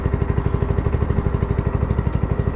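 Small engine on a VSI Legacy Series 750 liquid deicing sprayer running at a steady loud idle, with an even rapid chugging pulse throughout.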